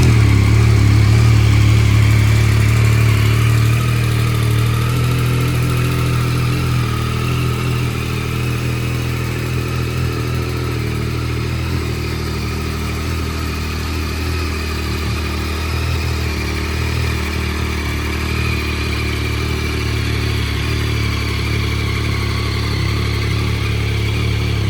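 A Yamaha MT-09 motorcycle with 3,797 miles idles steadily and close by, a deep continuous engine rumble that settles slightly after the first few seconds, with no talk over it.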